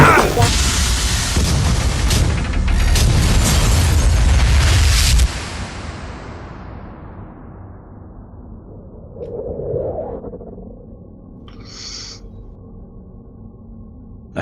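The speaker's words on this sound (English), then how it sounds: "Warning, reactor detonation imminent." A huge reactor detonation in a video game, a loud sustained roaring blast that rumbles for several seconds and then cuts off abruptly, leaving faint low tones and brief electronic beeps afterward.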